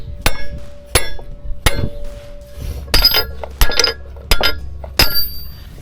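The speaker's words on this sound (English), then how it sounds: "I'll drive this through to clean out the rest of the junk that's in the cavity" A metal pin hammered through the cavity of a Case IH opener pivot, ringing sharp clinks in an uneven series of about ten blows, loud and close.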